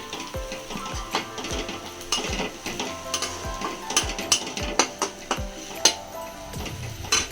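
Potatoes with turmeric, chili and cumin powders being stirred in a pan for Bengali egg chop, giving soft scraping and sizzling with repeated spoon knocks against the pan at a steady rhythm, close and alone.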